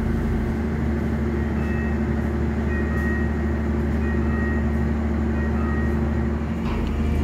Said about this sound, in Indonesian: ini adalah kereta parcel yang kemungkinan akan mengirimkan paket-paket tadi